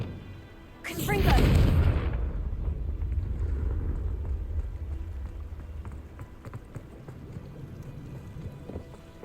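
Confringo explosive spell blast in Hogwarts Legacy, a single loud, deep boom about a second in, trailing off into a lingering rumble and crackle, with a voice speaking.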